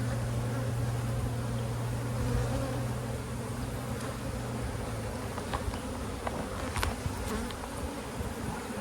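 A dense, steady hum of many honey bees buzzing close by at an open hive with brood frames, with occasional individual bees droning louder as they pass.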